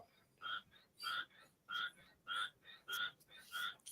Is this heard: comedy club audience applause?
no